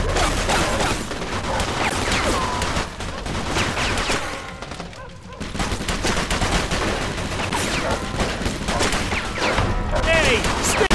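A shootout in the video game Mafia 2, with dense, sustained gunfire in loud continuous volleys and bursts, briefly easing near the middle before resuming at full intensity.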